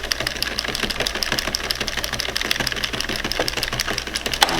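An Addi Express King Size circular knitting machine runs through rows with a rapid, regular mechanical clatter, close and continuous with a low hum beneath.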